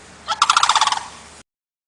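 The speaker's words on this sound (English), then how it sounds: "Birds, crane," A single crane call, a short burst of rapid rattling, bugling notes lasting about a second, heard clearly and alone.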